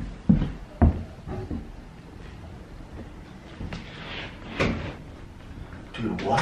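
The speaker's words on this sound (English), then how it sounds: "Close that door." A cabin door in a forest is pushed shut with two sharp wooden knocks near the start, followed by shuffling, rustling and hushed voices from people close by.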